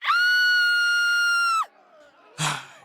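A partygoer lets out a long, loud, sustained scream for over a second at a Halloween party, followed by a brief burst of crowd shouting after a short pause.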